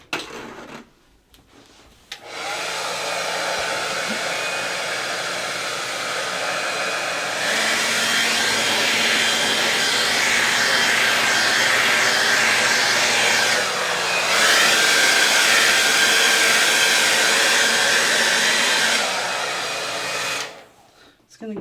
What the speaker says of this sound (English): We're going to make some noise here with the blow dryer,